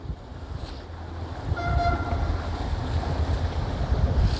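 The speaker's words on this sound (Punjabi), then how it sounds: "ਲਓ ਜੀ ਹਾਰਨ ਵੱਜ ਰਹੇ ਨੇ ਕਿਸ਼ਤੀ ਦੇ" A boat horn toots briefly on a narrow water canal in an old Italian city, a short tonal blast over steady wind and lapping water noise.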